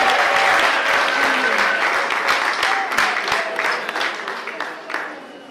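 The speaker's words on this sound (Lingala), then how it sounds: "je vous demande d'emblée de pouvoir applaudir très très fort" Wedding guests break into loud, sustained applause, a dense wash of clapping with scattered sharp claps standing out, tapering slightly toward the end.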